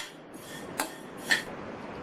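Dry vermicelli roasting in a pan over medium heat: a quiet, faint scene with two brief scraping clinks from stirring against the pan and a low background hiss.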